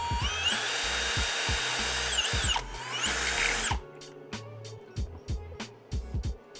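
A power drill bores a hole at a center-punched mark on a bike part, whining at high speed for several seconds, then stopping and giving a series of short bursts, close and loud.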